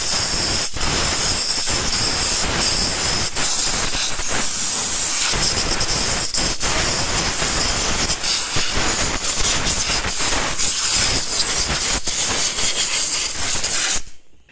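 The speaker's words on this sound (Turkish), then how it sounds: "Önce buraya bir hava tutayım" Compressed air blasting over the engine bay of an Opel Astra K 1.4 Turbo during servicing, a loud continuous hiss held for about fourteen seconds with short bursts and pulses, cutting off abruptly at the end.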